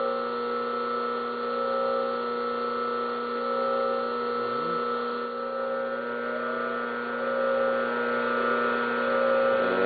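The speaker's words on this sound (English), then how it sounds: "And there's our motor running at probably pretty close to its rated speed." An electric motor on a 220v-440v rotary phase converter runs near its rated speed, giving off a steady, even electrical hum with a constant whine that holds without change.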